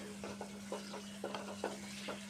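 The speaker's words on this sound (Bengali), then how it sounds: "তো মশলা ভালোভাবে কষানোর পরে আমি শোল মাছটা দিয়ে" Snakehead fish is stir-fried with well-cooked spices in a pan, a rhythmic series of soft scraping strokes over a low sizzle and faint steady hum, close and fairly quiet.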